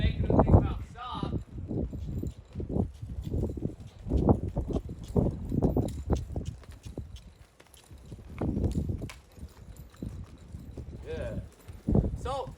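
A horse's hooves clip-clop steadily on the ground as it is ridden at a walk and trot during a first ride, the regular beats fairly close and loud, with a person talking over them at times.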